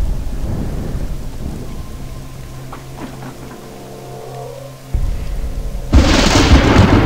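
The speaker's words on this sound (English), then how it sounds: "Oh Jesus, thunder." Thunder in the horror video game AlternativA, in its hospital level, rolls as a low, rumbling boom that fades under steady rain, then a sudden louder burst of rain noise arrives near the end.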